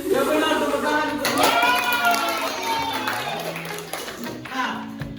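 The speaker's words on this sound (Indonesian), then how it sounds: "ya benar, tepuk tangan untuk" Children clap and cheer in a classroom during an arithmetic lesson, a loud, dense burst of clapping with shouting voices that runs throughout.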